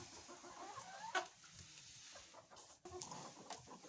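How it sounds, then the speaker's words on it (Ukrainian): Broody hens in a coop give soft, irregular clucks and murmurs, fairly quiet and close, with faint rustling between the calls and no one talking. "Дивлюся, квочки повсідалися, сидять."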